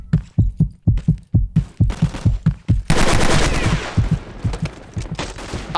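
Rapid gunfire from weapons shot from the hip in the Vietnam War shooter Vietcong, a fast run of loud, punchy bursts that swells into a dense, sustained roar of overlapping shots.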